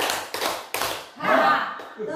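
A group in a positive-culture training session claps three times in an even rhythm, crisp and close, before a voice starts talking.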